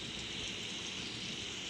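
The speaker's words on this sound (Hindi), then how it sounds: "और ये बारिश हो रही है।" Steady rain pouring down in the Roblox game Grow a Garden, a dense, even hiss with no breaks and no voices.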